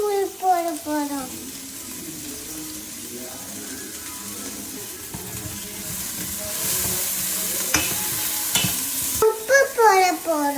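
Tomatoes and turmeric powder fry and get stirred in a pan, a close, steady sizzle with scraping and splashing. A voice speaks briefly at the start and again at the end.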